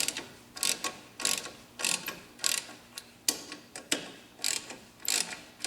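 A ratchet wrench tightening the bolts on a snowmobile handlebar riser in a series of quick ratcheting clicks, about a dozen bursts in an uneven rhythm, close and clear with no talking.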